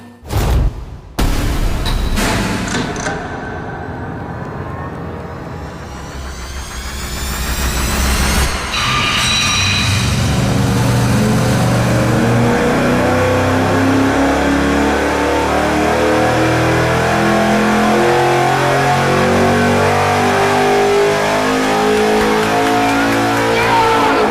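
A factory supercharged V8 on an engine dyno makes its final pull, the loud roar sweeping upward as revs climb, then holding a sustained, heavy high-rpm wail to the end.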